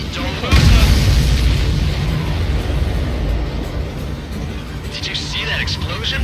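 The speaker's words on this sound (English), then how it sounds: "Did you see that explosion?" Missile explosion in the Ace Combat 7 flight combat game: a loud, deep boom rolls out at the start and settles into a sustained low roar, with radio chatter and game sound layered over it.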